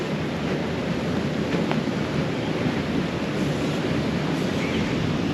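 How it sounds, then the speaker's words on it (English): Continuous broad roar of rushing water, steady and fairly loud, with some wind buffeting the microphone. "Water's rushing pretty good."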